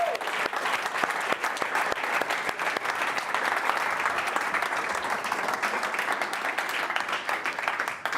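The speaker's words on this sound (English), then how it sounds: "I'll give a big round of applause" A small audience gives a round of applause at a talk, dense steady clapping sustained and fairly close throughout without any voices standing out.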